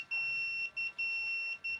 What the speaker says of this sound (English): you can hear the beep and the vibrates.